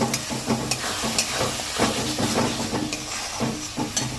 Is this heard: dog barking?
no